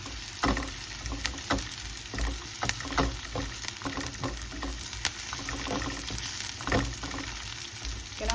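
Squid frying with golden garlic in a pan for adobong pusit crackles and sizzles loudly and continuously, with frequent sharp spits and the scrape of stirring, nobody speaking.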